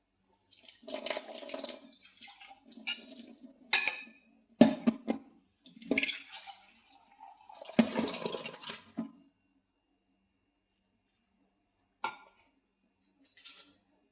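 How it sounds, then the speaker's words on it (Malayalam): Water is poured into a bowl of sugar and cornflour for mango ice cream, heard as several separate splashing, clinking bursts with pauses between them, close and fairly loud, without talk. "ഇതിനകത്ത് കുറച്ച് വെള്ളം ഒഴിച്ചു കൊടുക്കാം"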